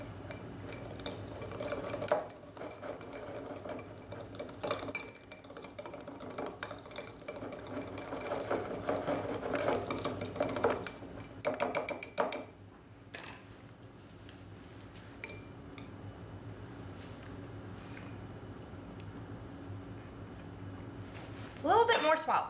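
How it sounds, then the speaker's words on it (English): Whisk clattering briskly against a bowl while mixing Greek salad ingredients, fast rhythmic ticking in bursts that stop partway, with a brief clink near the end. "And just use a whisk."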